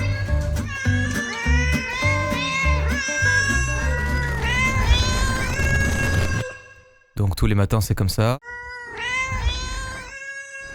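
A house cat meows repeatedly in long, drawn-out, wailing cries, loud and close, with someone speaking French over parts of it.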